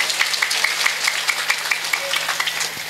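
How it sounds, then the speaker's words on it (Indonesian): Crowd applause during a Javanese religious sermon gathering: a loud, continuous wash of many hands clapping, with sharper individual claps popping through at a fairly regular pace. "Tepuk tangan dulu dong."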